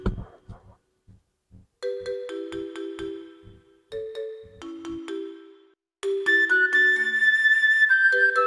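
Phone ringtone sounding for an outgoing video call, a repeating electronic melody in three rising bursts that grows louder and fuller, with faint tapping beforehand and no talking.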